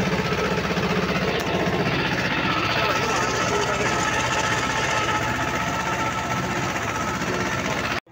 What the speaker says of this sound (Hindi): भाइयों आप देख सकते हो महिंद्रा जीवो 245 की परफॉर्मेंस।